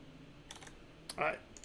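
Clicky typing on a computer keyboard during a baseball video game stream, a few quick keystroke bursts, faint and close, in an otherwise quiet room with no voice.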